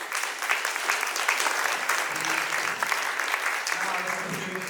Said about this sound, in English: please, round of applause for my team